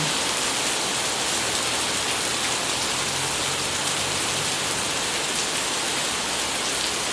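Steady rain pours down in Chanthaburi during a workday, a dense, even hiss of drops drumming on surfaces that continues unbroken and fairly close for the whole stretch.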